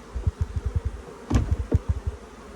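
Honeybees buzz close by in a low, pulsing hum that swells and fades in quick uneven beats, with no voices.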